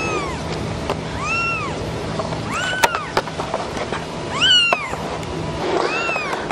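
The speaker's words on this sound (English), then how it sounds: "I've got too many kitties" Several kittens meow repeatedly, high rising-and-falling cries overlapping one another, fairly close over a constant background hum.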